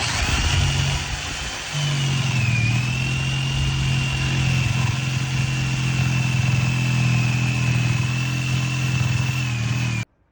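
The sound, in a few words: jigsaw cutting a pet door opening in a wall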